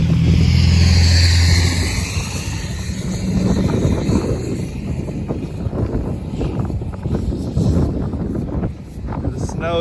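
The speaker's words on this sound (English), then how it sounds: "You see how windy it is here." Strong winter wind gusting across a snowy road on a hiking trail, a heavy roaring rush that buffets the microphone, with low rumbling and scattered crackles, loudest at the start and easing slightly later.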